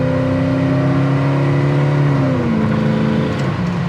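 A 1972 Chevrolet Camaro RS with a four-barrel carburetor accelerating hard, its engine a loud, close, steady drone that climbs in pitch and then drops as it shifts gear near the end.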